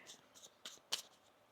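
Tarot cards being shuffled by hand, a few soft papery riffles and taps spaced irregularly, quiet and close, with one sharper flick near the end.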